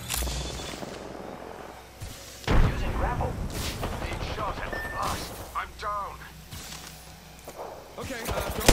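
Gunfire in the video game Apex Legends, sharp bursts of shots cracking out over in-game sound effects, with someone talking throughout.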